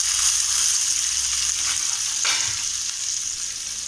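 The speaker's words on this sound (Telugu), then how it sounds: "ఈ వేగుతున్న గుడ్లలో ఉల్లిపాయలు వేయండి." Eggs frying with onions in a pan give a steady close hiss and crackle, with a brief stirring scrape partway through and no voices.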